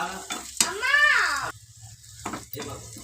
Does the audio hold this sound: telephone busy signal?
no